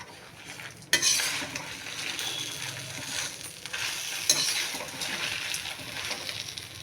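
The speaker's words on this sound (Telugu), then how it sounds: "ఇలా వేగాక ఇప్పుడు కొత్తిమీర కూడా కొంచెం వేయించుకోవాలి" Coriander leaves fry in a pan with lentils and curry leaves for ginger chutney, a soft steady sizzle broken by a sharp utensil clank near the start and another midway, close and moderately quiet, with no talk.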